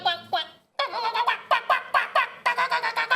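A presenter imitates an angry duck with his voice, a rapid string of loud, harsh quacking bursts, a few spaced calls followed by a quicker run of squawks close to the microphone.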